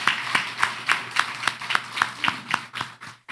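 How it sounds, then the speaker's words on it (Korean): A small church congregation at a Sunday service claps in rhythm, giving about a dozen crisp, evenly spaced claps that sound close and fairly clear. "박수로 격려해드리겠습니다."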